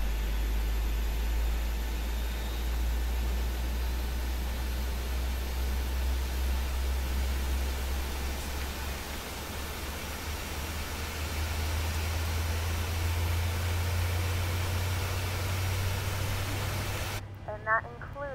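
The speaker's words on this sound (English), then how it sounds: "Engines are coming online." Boeing 737-700 jet engines spooling up as heard from inside the cabin: a loud, steady broadband roar with a low rumbling drone that rises in pitch over time, continuous throughout.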